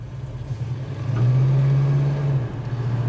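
A 1971 Chevrolet Chevelle SS V8 idling with a deep steady rumble, then revved once into a held, louder drone before settling back, close and clear with no talk.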